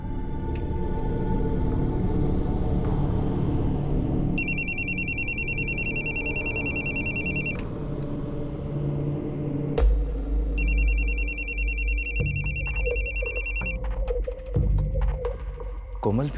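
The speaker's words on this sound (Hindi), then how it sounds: "माँ फोन क्यों नहीं उठा रही?" A telephone rings without being answered, two long bursts of a bright pulsing electronic ringtone separated by a pause, over a low rumbling background with tense music-like drones and thuds.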